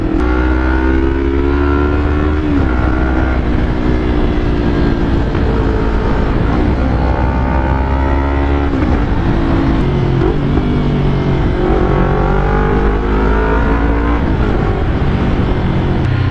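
A Yamaha YZF-R25 V2 motorcycle with a WRX GP3 aftermarket exhaust revs up and down repeatedly, its loud throaty roar rising and falling close by, with no talking.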